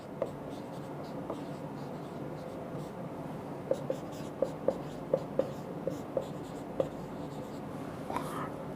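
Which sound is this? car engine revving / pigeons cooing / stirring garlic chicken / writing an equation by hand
writing an equation by hand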